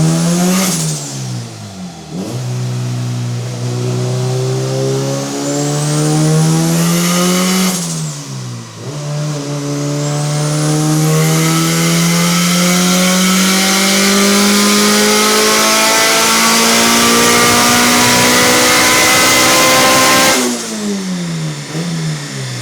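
A turbocharged Honda Civic engine on a dyno, with re-welded manifolds, climbs through three loud rising pulls, each winding up steadily before dropping back, up close with no talking.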